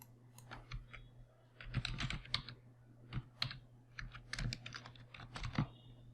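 Keys clatter on a computer keyboard as a password is typed, quiet close-up irregular clicks in small bursts over a low steady electrical hum.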